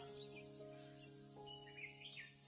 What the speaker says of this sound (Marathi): एकतर ह्या रातकिड्यांचा आवाज.